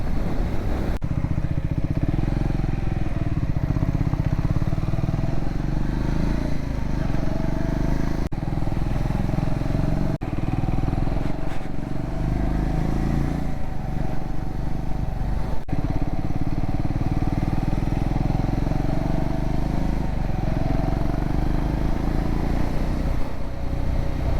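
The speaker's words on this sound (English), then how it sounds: "I use engine braking a lot on this bike" A Triumph Scrambler 400X motorcycle engine runs steadily throughout under engine braking, its low rumble rising and falling as revs shift, with a few brief clatters.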